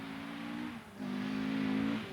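A 240-horsepower front-engine, rear-wheel-drive Talbot Lotus rally car on a downhill run, its engine note holding steady, dipping briefly as it lifts off, then surging again, heard at moderate distance and fairly faint.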